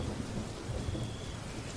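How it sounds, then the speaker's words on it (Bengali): Cartoon thunderstorm at night by a river, with steady rain hissing and a low rumble of thunder rolling underneath, fairly quiet and continuous with no voices. "আর খানিকক্ষণ পর পর কালো মেঘের গর্জন। এই বৃষ্টির মধ্যে আর বেশিক্ষণ থাকা ঠিক হইবে না।"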